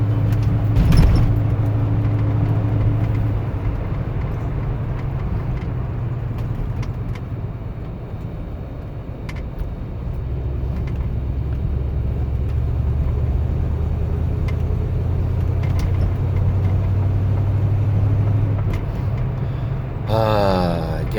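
1985 Mustang GT engine while driving at operating temperature, a continuous loud low rumble with gentle rises and dips in load, a few faint clicks and rattles, and a short rising whine at the very end.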